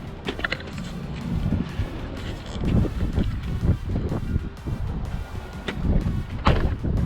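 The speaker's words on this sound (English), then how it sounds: "Oh my God, it's windy." Strong gusting wind buffets the microphone in loud, rumbling bursts throughout, with no other clear sounds.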